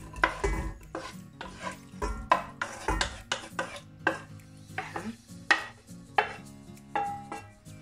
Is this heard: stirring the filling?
yes